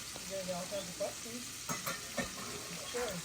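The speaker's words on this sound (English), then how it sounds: "get our veggies in here and get these stirred up really good in here" Vegetables stirred in a pot for red beans and rice with sausage and tasso, rhythmic scraping strokes over a soft sizzle, close and fairly quiet, repeating every half second or so; no speech.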